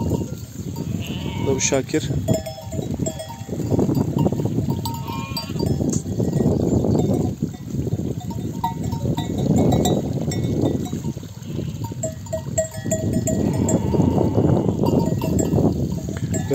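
Sheep with clanking bells bleat and mill about on a highland pasture, a steady jumble of animal cries and bell jingles under someone talking throughout.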